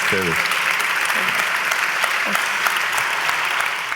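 Dense, steady applause from an audience at a music talk event, loud and continuous throughout, with a brief voice near the start.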